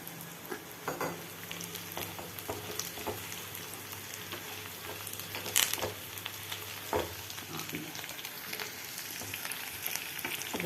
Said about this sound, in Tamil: இது நல்லா வதங்குவோம்.